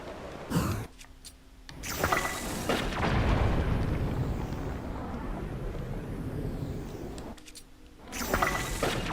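A bomb goes off in Zelda: Tears of the Kingdom among the Hebra Mountains, a loud rumbling blast with a long, roaring tail of several seconds, bracketed by short game sound effects before and after.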